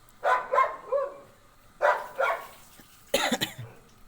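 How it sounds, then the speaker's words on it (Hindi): A dog barks nearby in a home setting, three clusters of two or three sharp barks separated by pauses, moderately loud over a quiet background. "थोड़ा सा एक डॉगी ज़्यादा डिस्टर्ब कर रहा है"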